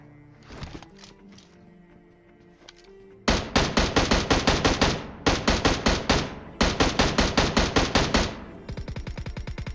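Automatic rifle gunfire in the PUBG video game comes as a few scattered shots, then loud rapid bursts of repeated fire. A final volley sounds lighter and quicker.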